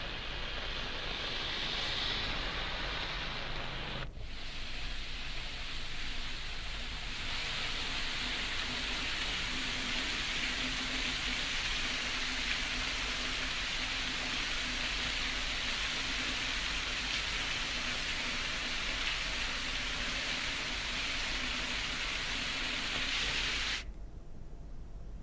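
Heavy, steady rain in Pauri, a dense continuous hiss of downpour holding at even loudness for the whole stretch, with no voices.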